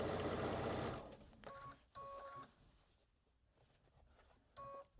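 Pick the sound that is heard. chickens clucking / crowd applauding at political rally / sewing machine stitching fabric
sewing machine stitching fabric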